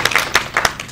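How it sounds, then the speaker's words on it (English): Audience applause at a nonprofit summit, a brief, fairly loud burst of several people clapping close by, the claps distinct and uneven, with no talk over it. "Let's give Jasmine a round of applause."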